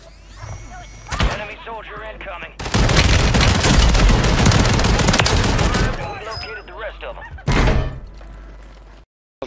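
Gunfire in the Warzone video game, a loud sustained burst of rapid shots lasting several seconds, with shorter shot bursts before and after and a voice talking between them.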